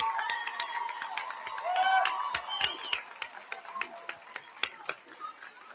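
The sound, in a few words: applause and cheering for graduates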